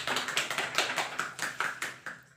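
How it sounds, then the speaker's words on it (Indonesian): Classroom applause for a student during a lesson, a burst of quick, dense hand claps from a small group that rises, holds steady and then thins out. "Berikan tepuk tangan kepada Alinda."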